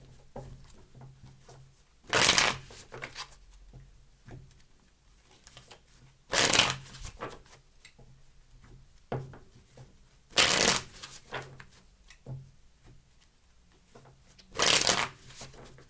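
Tarot cards being shuffled in four separate bursts of crisp riffling, each lasting about a second, with quiet handling and light tapping between them.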